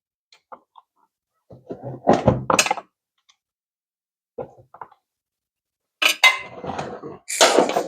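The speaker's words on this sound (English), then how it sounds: "We're going to go ahead and break this oil filter loose." Pliers work loose the oil filter on a Kawasaki Versys motorcycle during an oil change, giving a few scattered metallic clanks and thunks between short quiet gaps, close and fairly loud.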